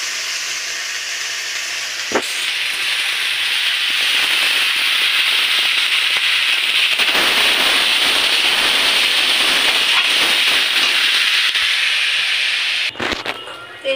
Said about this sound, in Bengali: পোলাওয়ের চালটাকে ভেজে নেব ভালো করে